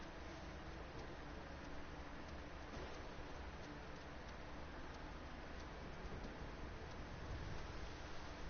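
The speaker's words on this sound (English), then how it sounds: "Of course you would be raining here. Well, it's a thunderstorm too." Steady rain falls during a thunderstorm in the video game Final Fantasy XIV, a soft, even hiss of drops throughout, quiet and continuous with no distinct thunderclap and no voices.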